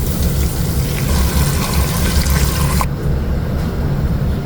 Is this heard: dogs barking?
no